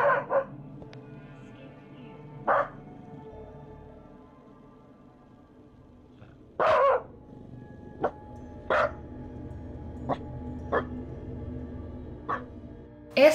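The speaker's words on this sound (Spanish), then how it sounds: "empieza a ladrar" A frightened, alert dog barks in a series of sharp, spaced yaps over a low background hum, with louder bursts near the middle and the end.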